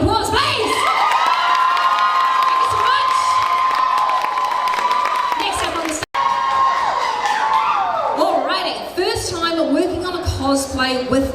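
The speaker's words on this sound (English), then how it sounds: "Amazing round of applause, please!" Loud crowd cheering and applause at the Overload NZ 2025 cosplay competition, with whoops and shouts over music, dipping briefly midway before swelling again.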